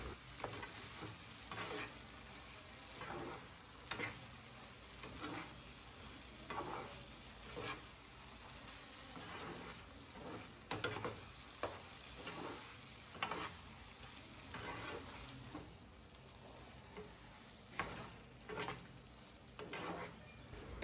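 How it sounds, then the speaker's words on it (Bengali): Fried fish being stirred and worked through a spice masala in a hot pan, a steady low sizzle punctuated by repeated soft scraping stirs at an uneven rhythm, close and alone. "তো মাছটা ভালো মতো কষে নিয়েছি"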